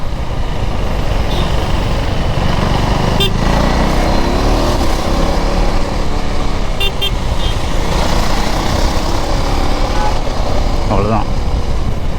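A KTM Duke 390 motorcycle downshifting with a quick-shifter while riding: loud, close engine drone mixed with heavy wind rush, with a few short tonal blips and horn-like toots in passing traffic.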